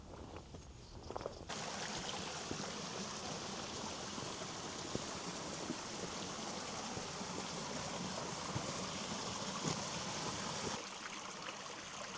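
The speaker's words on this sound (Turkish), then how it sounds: "Burada gerçekten güzel bir dere var." Small stream flowing at a campsite, a steady close trickle and babble of water that starts after a brief quieter moment and carries on evenly, with faint scattered clicks and no talk.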